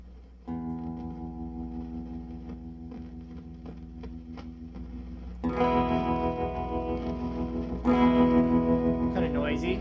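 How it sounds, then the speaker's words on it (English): A vintage Sears Silvertone twin 12 tube amp head plays sustained guitar chords through its tremolo, with a noisy hum underneath. The tone is loud and steady, and it swells louder in two later strums. "Now we'll go to the tremolo."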